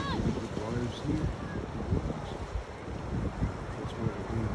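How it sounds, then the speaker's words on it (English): Ocean waves wash against the shore at Elephant Rock in Australia, a steady broadband surf roar with wind buffeting the microphone, while people talk nearby throughout. "Look at the waves."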